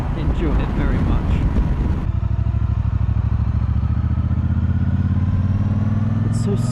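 A 2018 Triumph Bonneville Speedmaster rides along the road with a smooth, steady engine drone heard close up. Wind rush covers the first two seconds, and then the even engine hum carries on alone.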